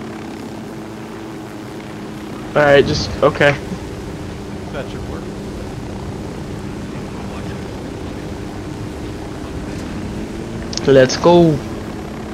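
A helicopter flies overhead in the open-world shooter Ghost Recon Wildlands, a steady low rotor drone heard throughout, with two short bursts of someone talking over it.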